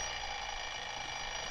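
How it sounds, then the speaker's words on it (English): An alarm clock set for five in the morning rings continuously, a steady bright electronic buzz that holds at a constant level from start to finish with no pauses. "I set my alarm for 5 the next morning"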